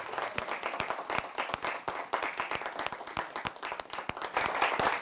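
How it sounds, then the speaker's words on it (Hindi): Audience at a Hindi kavi sammelan poetry event applauds steadily to welcome a poet to the stage, a dense crowd of claps sustained for several seconds with no speech. "तो एक बार जरा तालियों के साथ बुलाइएगा पॉपुलर मेरठी साहब को उनके काव्य पाठ के लिए"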